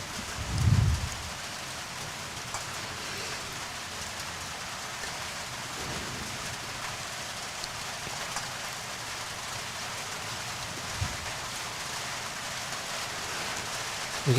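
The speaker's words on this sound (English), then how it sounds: "We can hear the rain on the roof here," Rain falls on the roof over croquet courts, a steady dense hiss of drops that holds evenly throughout, with a brief low thump near the start.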